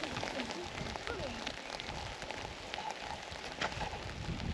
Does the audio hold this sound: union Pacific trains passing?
no